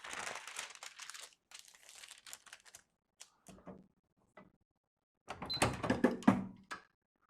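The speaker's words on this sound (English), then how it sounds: "Cover it up with some parchment." Parchment paper crinkled and pressed over toilet paper laid on printed logos, close rustling and crackling in bursts separated by brief silences, with a louder stretch of crumpling near the end.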